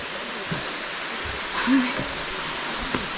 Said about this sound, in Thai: น้ำตกชั้นเจ็ด